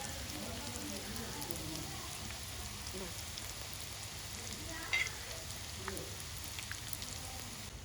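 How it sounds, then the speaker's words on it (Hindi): Malai tikka wontons shallow frying in hot oil, giving a steady close sizzle and crackle with a few sharper pops, continuous and fairly quiet throughout. "अब इसमें हम हमारे मलाई टिक्का वॉन्टॉन्स को डाल देंगे। हम इनको डीप फ्राई नहीं कर रहे हैं, हम इनको शैलो फ्राई करेंगे।"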